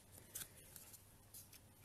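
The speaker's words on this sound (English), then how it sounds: "I just got these Stampin' Up snips, they're fabulous." Stampin' Up snips cutting paper for a Mother's Day card, a few quiet crisp snips spread across the moment, close and fairly soft over faint background hum.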